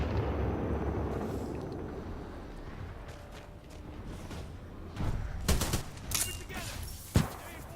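Grenade blast and gunfire in Titanfall 2 multiplayer: a rumbling low wash opens, then sharp bursts of shots crack out in the latter half, with a final loud pop near the end.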